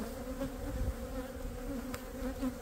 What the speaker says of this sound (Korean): 지금 벌이 많이 붙어 있네요.